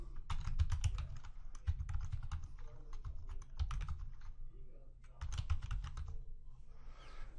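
Keys clatter on a computer keyboard in bursts of rapid typing separated by short pauses, close and clear with no voices, while logging into a simulated router in Boson NetSim network lab software.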